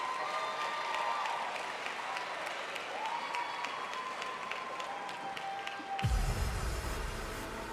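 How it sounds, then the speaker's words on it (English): An audience at the Ball State sports awards applauds the award winners with sustained, even clapping, and the sound swells slightly near the end as a low rumble joins in. "Let's give all of our award winners one last round of applause."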